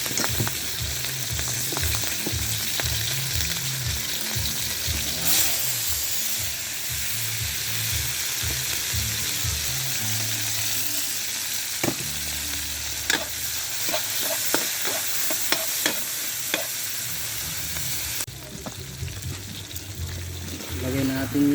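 Patola (sponge gourd) and carrots sizzling and frying in a hot oiled wok, steady crackling hiss with stirring scrapes and clinks throughout, close and fairly loud, with occasional voices in the background.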